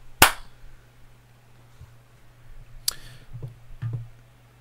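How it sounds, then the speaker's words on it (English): A single sharp clap rings out near and clear, followed after a pause by a second softer clap and a few faint taps over a low steady hum. "clapping for the last time in season 5"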